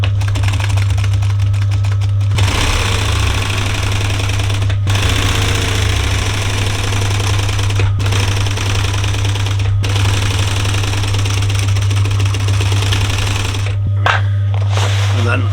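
A sewing machine runs in steady, continuous bursts while stitching a diamond pattern on a campervan cushion with piping, stopping briefly between runs as the work is turned; a low constant hum sits beneath the loud, close mechanical chatter.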